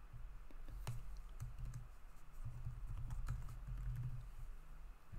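Password being typed on a computer keyboard, with steady, fairly close clicking keystrokes running throughout and a low background hum underneath.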